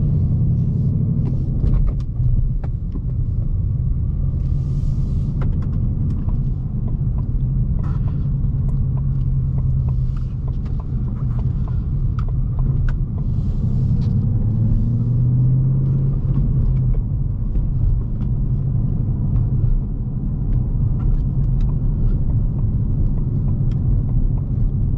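Steady low V8 rumble from a 2019 Ford Mustang Bullitt, naturally aspirated with a 6-speed manual, heard from inside the car while driving, a continuous loud drone with road noise and no talk.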